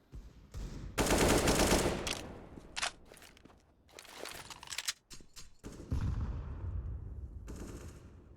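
Rapid bursts of AK rifle fire in a competitive Counter-Strike match, loud and close, alternating with quieter stretches and a few single shots and footsteps.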